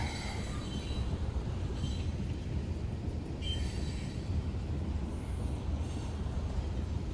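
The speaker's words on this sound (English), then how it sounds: "Here's the end of the train coming up." A BNSF freight train rolls past in Redondo Beach, a steady heavy rumble of wagons with brief high wheel squeals cutting in now and then, with no talking over it.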